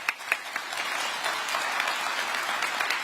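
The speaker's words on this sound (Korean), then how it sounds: "감사의 박수를 청합니다." Applause at a Korean public gathering honouring the Korea Chamber of Commerce staff, a steady wash of many hands clapping with a few sharper claps near the start, moderately distant and without talk.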